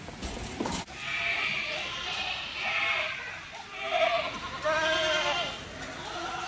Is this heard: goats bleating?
yes